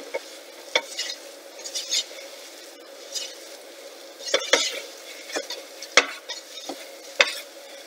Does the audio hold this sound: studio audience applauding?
no